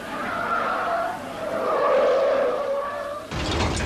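A 1978 Škoda test car runs a slalom course at 60 km/h, its tires squealing and skidding in rising and falling waves over the engine, ending in a sharp burst of noise.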